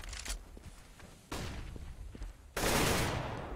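Bursts of rifle fire in Counter-Strike on the de_dust2 map, several loud sustained volleys with sharp onsets, the last the loudest, with faint footsteps between.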